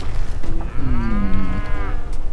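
A cow in the video game Gunslinger gives one long, loud, clear moo that rises then falls, heard alone over game background noise.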